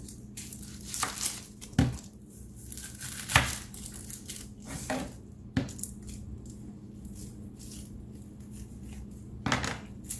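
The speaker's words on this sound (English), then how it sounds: "Take that outer layer off." An onion's dry outer skin being peeled off by hand, a series of sharp papery tears and crinkles in irregular bursts, close and fairly quiet with no talking.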